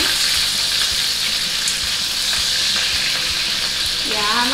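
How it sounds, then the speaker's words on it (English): Short ribs sear in a hot pan, giving a loud, dense, continuous sizzle with occasional soft spatters and light clanks, close up and unbroken, with a faint voice briefly near the end. "Once I'm done searing this, I'm going to put it in here."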